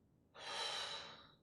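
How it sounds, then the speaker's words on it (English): A single soft, airy inhale during a tai chi breathing exercise, close and quiet, rising over about a second and fading out alone without talk. "Breathe in, breathe out."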